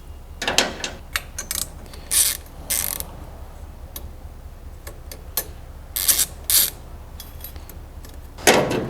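Bolts are loosened with Allen wrenches during Mini Cooper 1.8T swap work: a series of sharp metallic clicks, clinks and short ratchety scrapes at irregular intervals, close by over a faint background hum, with no talking.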